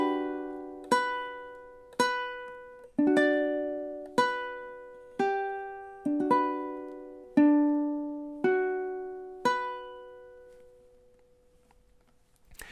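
Ukulele playing measures 23 to 26 of a song: about ten evenly spaced plucked chords, each ringing and fading before the next, close and clear, ending in quiet.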